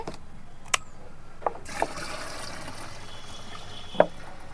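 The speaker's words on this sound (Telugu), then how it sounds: "తర్వాత కొంత వాటర్ కూడా వేద్దామండి" Water poured into a homemade pesticide mixture made from household ingredients for garden plants, heard as a few sharp splashes and a short trickle, close by and fairly quiet, with gaps between.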